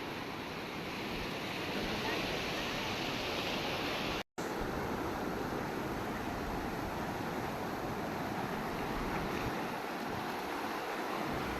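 Strong river water at Maredumalli rushes in a loud, unbroken roar close to the microphone, with wind buffeting mixed in and one brief dropout partway through.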